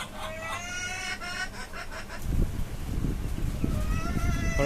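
A desi hen that has just started laying clucks repeatedly up close on a rooftop poultry farm, her calls soon joined by a rough, rumbling background noise that grows louder.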